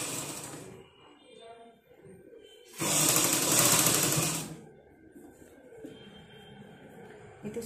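A sewing machine stitches fabric in a single loud, steady run of about two seconds, with quieter handling noise and faint talk around it.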